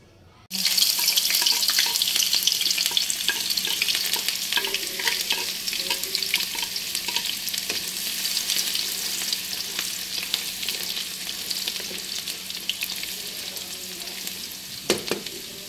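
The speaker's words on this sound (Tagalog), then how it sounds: "Tapos yung bawang naman, haluin lang, kiwar-kiwar lang." Garlic sizzles steadily in hot oil in a pan as it is stirred, with onion, ginger and shrimp paste for a laing dish. The sound is close and constant, with a few utensil clicks and a clack near the end.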